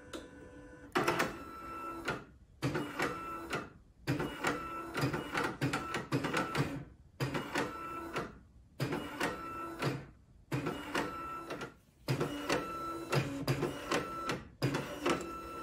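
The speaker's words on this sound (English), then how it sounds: "This is a Canon BJ-130E. It was Canon's first bubblejet printer." A 1988 Canon BJ-130E bubblejet printer prints in a steady rhythm, repeated bursts of whirring carriage passes a little over a second each, separated by short pauses, heard close and clear.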